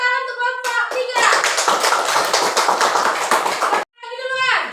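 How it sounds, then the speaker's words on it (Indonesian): Schoolchildren in an elementary coding class applaud a group's presentation with a burst of brisk, dense hand clapping lasting about three seconds, bracketed by a young voice speaking before and after. "Tepuk tangan untuk kelompok 3."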